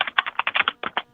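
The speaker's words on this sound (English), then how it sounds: "Oh, somebody's typing." Rapid clicking of keys on a computer keyboard, a quick irregular burst of close taps with a brief pause partway through.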